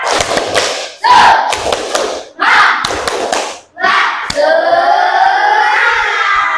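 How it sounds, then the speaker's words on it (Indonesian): An Indonesian class performs a rhythmic spirit clap, with several quick rounds of loud, close claps in bursts, followed by the group shouting together in a sustained cheer. "Tepuk semangat."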